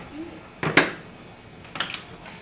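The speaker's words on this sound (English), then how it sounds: "Just gonna stir it through and show you how we're gonna plate it." A spoon stirs creamy moong bean soup in a cooking pot, giving two brief clinking scrapes against the pot's side, close and fairly loud over a quiet background.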